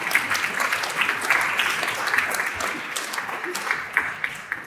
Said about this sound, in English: I think we should give Kelly a round of applause for getting two really hard surnames correct